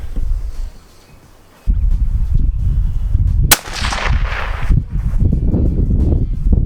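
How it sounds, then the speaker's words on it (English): A single 6.5 mm rifle shot fired at a target outdoors, one sharp loud crack with a brief ringing tail, set against steady wind and rustle before and after. "now we're going to shoot for the left triangle now that I should be fairly sighted in"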